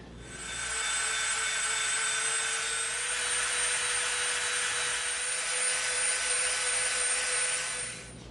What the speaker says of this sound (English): We're going to Dremel from the bottom up to that inner line.